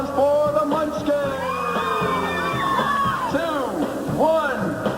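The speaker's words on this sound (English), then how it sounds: "a big round of applause for the Munchkin!" A studio audience on a kids' game show whoops, yells and cheers for a competing team, a loud, dense crowd roar with overlapping shouts that swells and dips and stays steady for several seconds.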